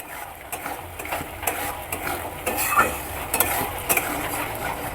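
Whisked yogurt sizzles steadily in hot oil in a pan for Bengali doi katla, while a spatula stirs it with repeated scraping and clinking against the pan.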